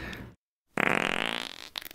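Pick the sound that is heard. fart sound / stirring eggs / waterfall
fart sound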